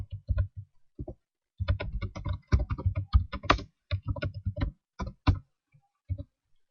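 Keystrokes on a computer keyboard as text is typed with the text tool in Adobe Animate: close, crisp clicks in quick irregular bursts with short pauses between, no talking.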